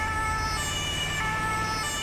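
An ambulance siren in the GTA 5 video game wails loudly and continuously as the ambulance speeds through busy city traffic, over a steady engine and road rumble.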